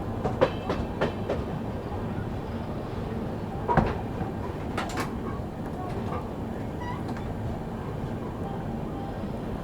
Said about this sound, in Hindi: यहाँ पर अपनी दुरंतो एक्सप्रेस स्किप करते हुए इटारसी जंक्शन को।